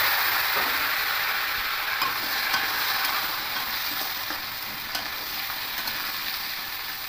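Potatoes fry in mustard oil tempered with black cumin seeds, giving a steady, close hiss of sizzling with occasional stirring scrapes and clicks throughout, and no talk.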